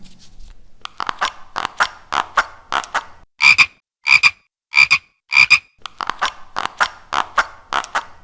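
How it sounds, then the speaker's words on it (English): An old foam-handled hand gripper squeaks with each squeeze, about a dozen short croaking chirps in a steady rhythm, close and loud, with a sharper, louder group in the middle, sounding strikingly like a frog. "This hand gripper literally sounds like a frog."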